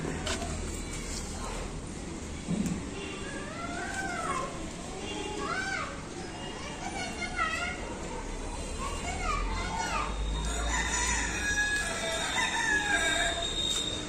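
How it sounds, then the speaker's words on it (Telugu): Chicks cheep repeatedly in high rising peeps, with chickens clucking and calling around them and voices speaking intermittently nearby in a vegetable garden. "ఇదిగోని మన కోడి పిల్లల సౌండ్లు"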